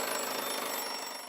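A vintage German alarm clock rings with a steady, bright metallic bell rattle, continuous and fairly close for over a second, fading slightly at the end.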